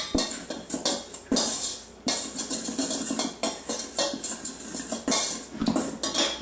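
A spoon stirs sugar, wheat gluten, salt and yeast together in a bowl for brioche dough, giving close, steady scraping and clinking against the bowl in uneven bursts, with no talking.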